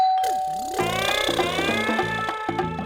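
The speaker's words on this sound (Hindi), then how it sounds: "हाँ, डोरबेल तो बज रही है।" A melodic electronic doorbell chime plays clearly, its tones stepping through a short tune that rings out close and loud.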